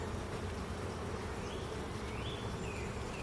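Honeybees buzzing around an open hive during a frame inspection; a dense, steady hum of many bees, close and continuous with no talk.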